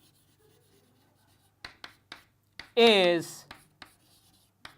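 Pen writing by hand during a biology lesson, a few short scratchy strokes in an otherwise quiet room, with a brief spoken word in the middle.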